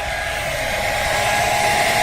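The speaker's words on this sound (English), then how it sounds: "We're going to be using our professional heat gun right here called the hair dryer" A hair dryer blows steadily at close range, heating trim on a Thunderbird car for removal, its constant airy roar and motor hum continuing without a break.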